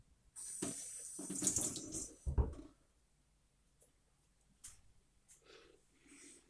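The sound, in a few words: water running from a tap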